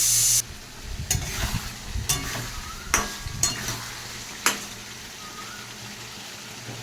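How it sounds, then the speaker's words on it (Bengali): Meat being stir-fried (kosha) in a pan gives a steady sizzle close by, punctuated by repeated sharp scrapes and clacks of a utensil stirring against the pan. "মাংসটাকে ভালো করে কষিয়ে নিচ্ছি।"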